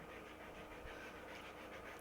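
Dog breathing heavily and panting right beside the mic, a steady rapid rhythm of huffing breaths that runs without a break, fairly quiet, with no talk over it.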